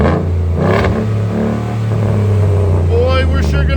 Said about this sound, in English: I love my V8. I want it to sound like a V8. We did a little delete for him, left his resonator.